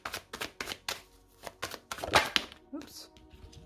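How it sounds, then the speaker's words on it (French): Tarot cards laid out one by one on a table for a reading, a string of soft slaps and brief shuffles at close range, with someone talking in French now and then. "Je prépare mon deuxième tarot pour recouvrir."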